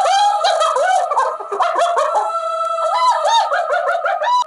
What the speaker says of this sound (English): Number 1, hyenas.